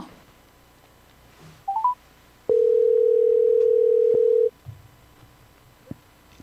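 A telephone gives a brief burst of dialing tones, followed by a loud steady dial tone of about two seconds that then cuts off, leaving a quiet line with faint clicks and no talk.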